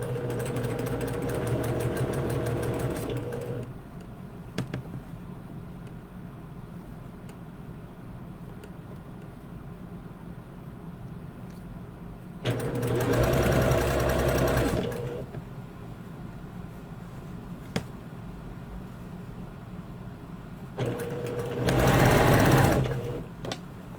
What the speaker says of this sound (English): we're going to pull the sleeve back as we stitch it in place.